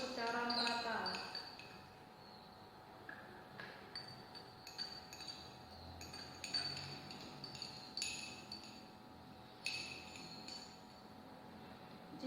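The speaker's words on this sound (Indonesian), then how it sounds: "kita aduk dulu ya supaya tercampur secara merata" A solution is stirred in laboratory glassware during a chemistry practical, with a run of light glassy clinks and taps at irregular intervals, close and moderately faint, over a quiet room with brief voices.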